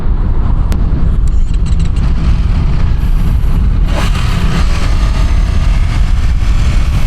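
A 2025 Ducati Panigale V2 sport bike rides along on the road, its engine a loud, continuous low rumble mixed with heavy wind buffeting that grows rougher partway through.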